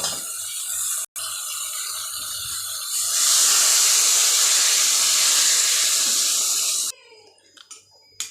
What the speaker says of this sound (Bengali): এবার আমি জল দিয়ে দেবো।